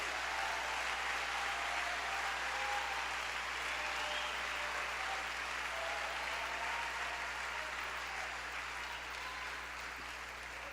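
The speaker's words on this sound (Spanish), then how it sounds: "Si lo va a aplaudir, hágalo con toda la fuerza." An audience at a church leadership conference applauds in a sustained, dense wash of clapping that holds steady for about ten seconds and fades slightly toward the end.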